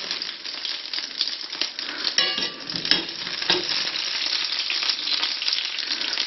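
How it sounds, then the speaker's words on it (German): Peeled chestnuts frying in a pan for glazed chestnuts, a close continuous sizzle with scraping stirs and a few light clicks of nuts shifting, no one speaking. "Dann kommen auch schon die Maronen dazu."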